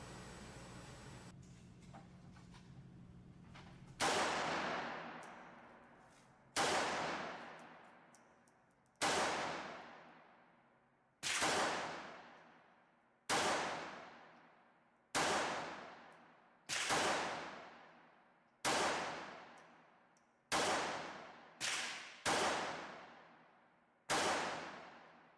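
A Taurus PT-58 .380 pistol fires PMC Bronze 90-grain rounds outdoors, about eleven single loud shots spaced a couple of seconds apart, each with a long fading echo.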